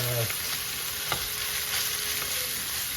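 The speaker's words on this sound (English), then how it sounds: "Gonna sear these up" Short ribs searing in a hot pan, a steady, bright hiss of sizzling fat held at an even level, with one brief clink partway through and no voices.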